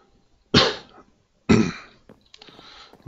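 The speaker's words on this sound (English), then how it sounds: "A little bit of cough today." Two sharp coughs about a second apart from someone at close range, followed by quieter throat noises, with no talk over them.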